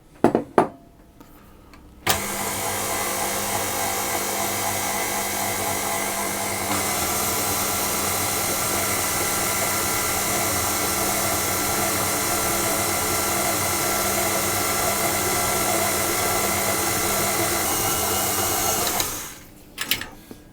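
An electric mixer blends oat cookie batter with oats and mixed dried fruit in a bowl, giving a steady, loud motor whir that runs unbroken for about seventeen seconds with no talking.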